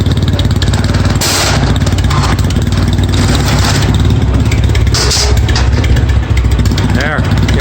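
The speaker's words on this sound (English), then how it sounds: "So just continuing with the video of the motorcycle running, and a little bit of a vibration coming off of this." A 1981 Yamaha XS650 Special motorcycle engine runs steadily nearby, a loud continuous low rumble with some vibration, with brief louder bursts of noise partway through.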